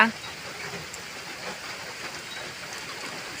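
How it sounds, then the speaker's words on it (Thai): Rain falling outdoors near a parked vehicle in a rural farming area, a soft continuous hiss of drops that stays even and moderately close throughout, with no other clear sound above it. "บรรยากาศฝนตก"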